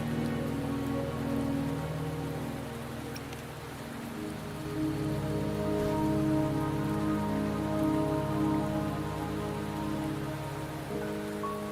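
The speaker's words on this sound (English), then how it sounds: "Don't worry, the rain won't last much longer." Steady rain falls in the video game Wuthering Waves, a dense continuous patter that stays even and unbroken throughout, with no voices over it.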